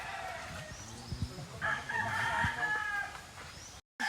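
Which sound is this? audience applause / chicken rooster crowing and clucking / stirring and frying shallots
chicken rooster crowing and clucking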